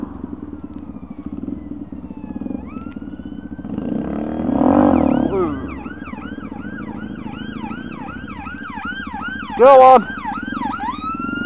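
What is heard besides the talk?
ambulance siren passing, heard from a motorcycle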